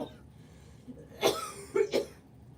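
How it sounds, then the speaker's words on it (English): A few dry coughs close by: one sharp cough, then a quick pair, against a quiet room. "I keep on coughing"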